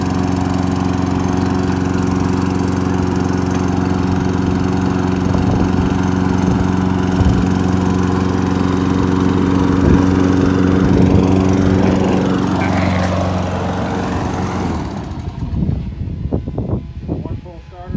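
A lawn mower engine runs at a steady, loud drone after starting, then sputters and dies near the end, with people talking over it.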